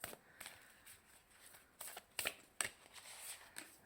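Oracle cards are shuffled and pulled by hand during a tarot reading. Soft, irregular riffling and snapping card sounds come in short bursts, close but quiet, with no voice.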